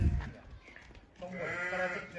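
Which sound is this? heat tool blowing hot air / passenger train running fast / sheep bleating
sheep bleating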